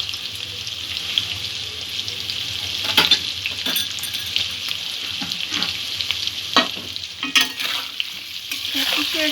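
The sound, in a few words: spinach and potato curry with turmeric being stirred in a pan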